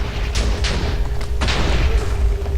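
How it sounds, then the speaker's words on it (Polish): Several sharp booms burst one after another over a constant low rumble, loud Minecraft explosions with no talking. "coś tam wybucha."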